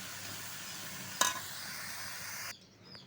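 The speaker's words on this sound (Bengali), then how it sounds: "ডাটাগুলো আমরা নেব ভালো করে কষায় নেব" Vegetable stalks sautéing in a pan give a steady close sizzle, with one sharp stirring clatter partway through before the frying noise drops abruptly.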